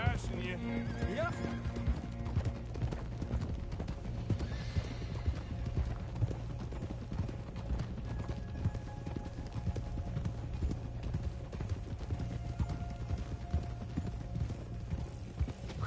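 Horse hooves clip-clop steadily throughout a Red Dead Redemption II game scene, with occasional neighs and whinnies and a character talking over a constant low background.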